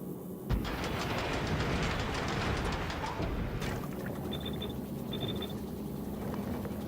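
A copper train runs in the Factorio video game, giving a rumbling rail clatter with a sharp start, then quieter running with two short high beeps near the end.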